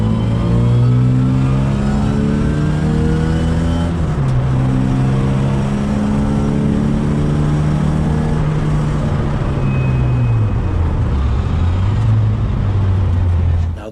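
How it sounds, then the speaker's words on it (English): A car fitted with Weber DCOE carburetors accelerates on a track, its engine loud and close with rising and falling revs as the throttle opens, sustained throughout without speech. "So now we're taking the car back on the track and we're going to test the acceleration."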